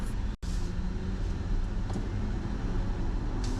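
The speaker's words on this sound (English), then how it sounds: "There's a lovely pull of acceleration in this car, a lovely sort of waft of noise" A 2022 Kia EV6 GT electric car accelerates with a steady low hum and road rumble from inside the cabin, smooth and continuous with no engine roar.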